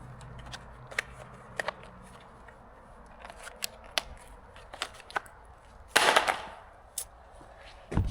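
Weed whacker trimmer string snipped with a cutter outdoors, several sharp isolated clicks spaced irregularly, followed by a brief rough rustle and another snip, close and otherwise quiet.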